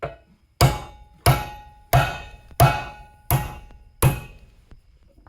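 Six heavy blows from a bigger hammer on a rusted roll pin in a Kuhn GA 6000 rake rotor arm land about two-thirds of a second apart, each a hard metallic strike with a short ring, close and loud.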